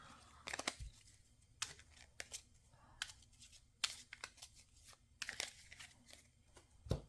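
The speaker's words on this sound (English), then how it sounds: "We're just going to shuffle these 3 back." Three playing cards shuffled back into a deck during a solo tabletop card game test: soft, quick papery riffles and crinkling flicks in short bursts, close and quiet, no talking.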